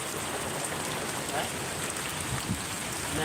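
Heavy rain pours down steadily, a dense wash of hiss filling the whole stretch at close range, with a faint voice briefly audible beneath it.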